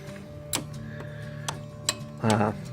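A belt tension bolt on a 1997 Toyota Corolla is turned loose one notch at a time, giving a few sharp ratchet clicks spaced apart and then a short burst of rapid clicking, all close by.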